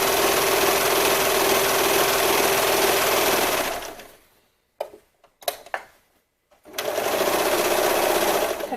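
Sewing machine running a zigzag stitch along a fabric edge while sewing a sports bra: a loud, steady whirring hum for about four seconds, a pause with a few short clicks and bursts, then steady stitching again.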